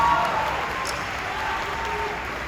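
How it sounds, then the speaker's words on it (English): Steady audience applause at a Blumhouse Blumfest panel at New York Comic Con 2023, a dense unbroken wash of many hands clapping together, fairly loud, with crowd voices mixed in. "Really big applause on that."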